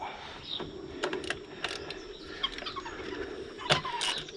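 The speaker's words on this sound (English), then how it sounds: "That's the ferrets playing, if you can hear that." Ferrets playing nearby during a 2013-14 Kawasaki Z1000SX fork seal overhaul, heard as scattered light clattering, scrabbling and rattles over a low room hum.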